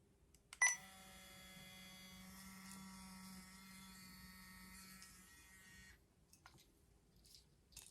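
A steady electric buzzing hum from an electric dog collar held in the hand switches on sharply and drones for several seconds before cutting off, close by, with a faint click at the start.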